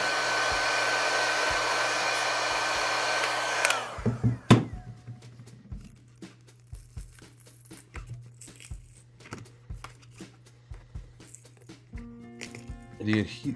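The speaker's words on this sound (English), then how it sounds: "just hit it with a heat gun." A heat gun blows with a loud, steady roar for several seconds to soften adhesive on a DJI Agras T50/T40 remote controller, then shuts off, followed by close clicks and prying taps.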